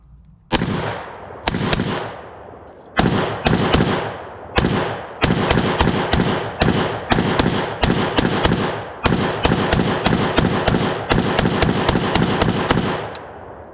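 A WBP Mini Jack AK47 pistol fires at a range: loud, close gunshots, first a few single shots with pauses, then rapid strings of quick successive rounds with brief gaps.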